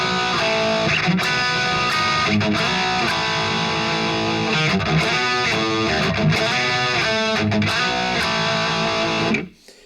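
Distorted electric guitar plays a funk riff at a slow tempo, giving dense, loud, continuous overdriven tone with choppy picked accents for about nine seconds, then stopping abruptly, with no voices.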